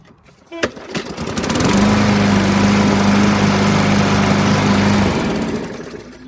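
A Bolens 21-inch push lawn mower with a 140cc engine starts after a brief pull and settles into a loud, steady running drone close by, then begins to fade near the end.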